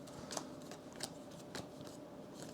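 A small deck of board game cards shuffled by hand, a few quick riffling flicks and soft papery slaps, close and quiet, without talk.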